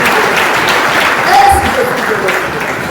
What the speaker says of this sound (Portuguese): Aplauda mais uma vez para Jesus.